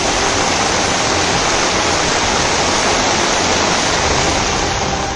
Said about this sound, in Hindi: सीहोर में सड़कों पर पानी का ये सैलाब किसी को भी डराने के लिए काफी है।